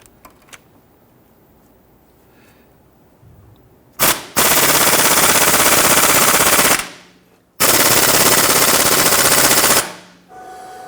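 An impact gun hammers on the harmonic balancer center bolt of a 2006–2014 Honda Ridgeline in two long, loud, continuous rattling bursts at close range, separated by a brief pause.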